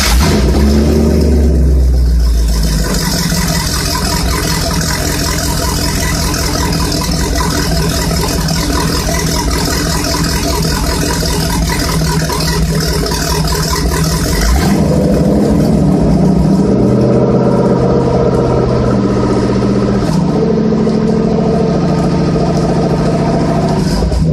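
A rebuilt marine boat engine runs on land for a test, starting up and revving hard, loud and continuous throughout with a rough mechanical roar that shifts pitch as the throttle changes.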